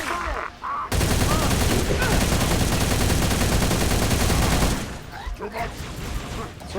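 Dense, loud automatic gunfire erupts in Halo Reach during a heroic-difficulty firefight, a sustained rattling burst lasting several seconds before tapering into scattered shots, with a voice briefly heard around it.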